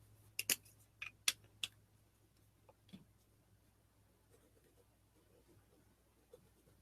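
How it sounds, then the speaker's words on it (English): A pen writes paint names and a brand on paper in a quiet room, a few sharp close ticks and scratches clustered early, then sparse faint strokes. "I'm going to write the names on here and the brand."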